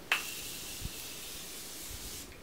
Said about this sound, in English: Then the Morphe Continuous Setting Spray.